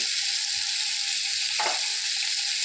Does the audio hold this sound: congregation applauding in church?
no